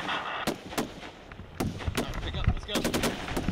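An M240 machine gun fires live rounds on a range, with sharp, loud reports in short irregular bursts, some very close and others overlapping, while faint voices sit underneath.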